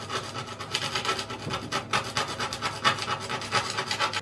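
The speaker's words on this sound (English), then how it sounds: "The wider rounding irons are a lot easier to sharpen than the smaller ones." A round #1 handplane iron being sharpened, with a steady rhythmic rasping rub of steel stroked back and forth on an abrasive, close and moderately loud with no voices.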